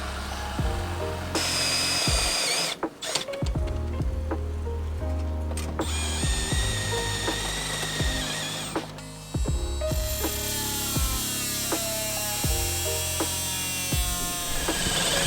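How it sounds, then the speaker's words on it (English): A step drill and an oscillating multi-tool cut a hole into a keyhole shape for a door lock, giving loud, continuous whining and grinding with shifting pitch and short pauses between passes. "Using a mixture of the step drill and my multi-tool, I managed to make the hole more of a keyhole shape"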